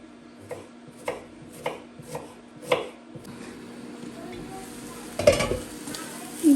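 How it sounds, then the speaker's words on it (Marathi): Onion being chopped with a knife on a board for onion-potato bhaji: five crisp, evenly spaced cuts close by, then a faint hiss and a louder clatter of kitchen utensils. "हा कांदा कट करते"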